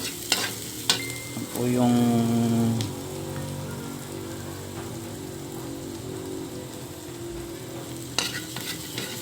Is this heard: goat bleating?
no